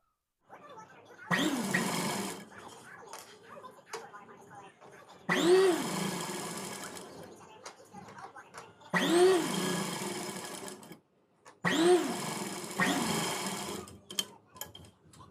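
A home sewing machine hems the sides of a nighty in four separate loud runs. Each run lasts two to three seconds and is divided from the next by short quiet pauses.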